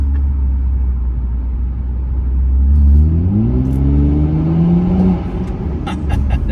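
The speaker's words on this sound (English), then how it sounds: "I'm gonna give y'all this little tunnel run" A 2020 Toyota Camry TRD engine revs up in a tunnel, a loud close rumble rising steadily in pitch for a few seconds before easing off, with no talk over it.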